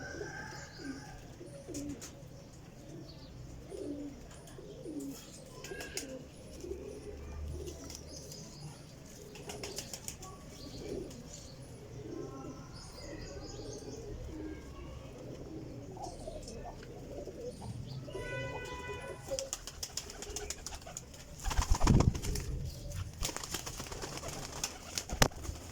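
Black teddy golden pigeons coo softly and repeatedly at close range, with scattered chirps, and a sudden burst of wing flapping near the end.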